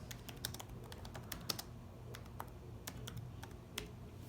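Computer keyboard typing into a document, a steady run of quick, light key clicks with a few sharper taps, close and fairly quiet with no talking.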